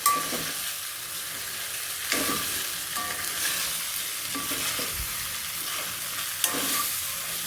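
Pasta is stirred and folded in a pan with a spatula, a steady hissing sizzle broken by scraping turns every second or so, close and alone without talk.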